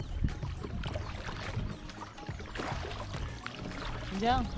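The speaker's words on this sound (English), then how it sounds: "So here we're kayaking" A GoPlus inflatable tandem kayak is paddled on water, with soft splashes and trickling drips from the paddle strokes, fairly close and low in level, and a voice speaks over it.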